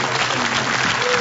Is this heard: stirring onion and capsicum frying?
no